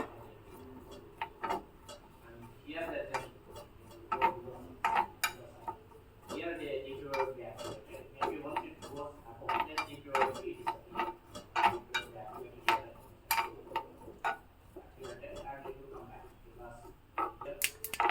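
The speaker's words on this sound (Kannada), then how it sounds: "ಎಳ್ಳು ಸಹ ಚಟಪಟ ಅಂತ ಸೌಂಡ್ ಬರ್ತಾ ಇದೆ" Sesame seeds dry-roasting in a pan, giving irregular sharp crackles and pops scattered throughout, close and fairly quiet, with occasional faint scraping between them.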